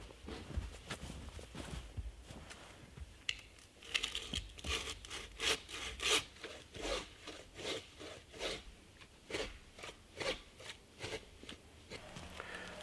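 A hand saw rasps through a tree trunk in steady back-and-forth strokes, close and rhythmic, speeding up into a regular pattern with no talking, while winter camping.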